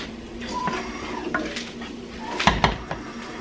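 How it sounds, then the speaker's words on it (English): Onions sauté in a pan while a utensil stirs and scrapes, giving close clinks and knocks of metal on cookware over a low sizzle, with a couple of sharper taps near the end. "we're just gonna saute these up just until they develop a little bit of color, become translucent, and they're nice and fragrant"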